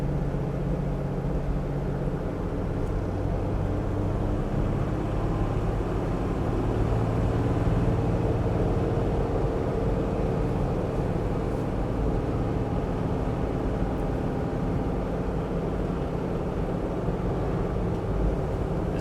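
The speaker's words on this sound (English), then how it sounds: "driving this diesel Land Cruiser down this beautiful northwest back road" A diesel Toyota Land Cruiser 80 Series cruises down a back road, its engine a steady low drone with tire and road rumble that stays constant and close throughout, with no talking.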